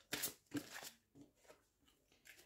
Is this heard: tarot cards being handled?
yes